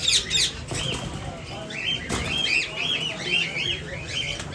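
Two male yellow ringneck parrot breeders at a pet bird shop in Islamabad chirp in repeated shrill calls, with wing flutters and rustling nearby.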